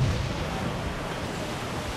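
Wind and waves at sea on a sailing ship in the video game Assassin's Creed IV: Black Flag, a steady broad rushing roar of wind and surf, loud and continuous with no voices.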